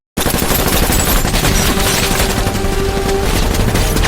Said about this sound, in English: stepping on the gas, which was immediately shot by hundreds of bullets from Jack and Patrick